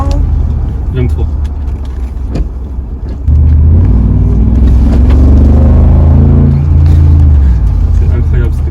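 Mercedes G55 AMG being driven, a deep V8 rumble that swells sharply as the throttle opens and holds a loud, throaty drone, heard from inside the cabin with someone talking over it.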